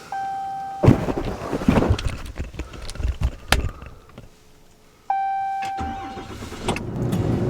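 A diesel dually truck engine starts after its preheat cycle, with a warning chime, then a rough cranking catch and an uneven idle running close by, followed by a second chime.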